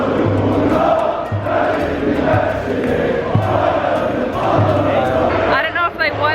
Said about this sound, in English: everyone on the street is just cheering so loudly